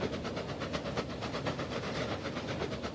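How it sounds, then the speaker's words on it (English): A Virgin passenger train in the railway simulation game Transport Fever 2 rolls past, a steady rumbling roar with rhythmic clickety-clack of wheels over rail joints, close and continuous with no talk. "There goes a Virgin service."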